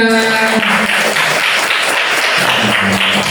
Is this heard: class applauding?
yes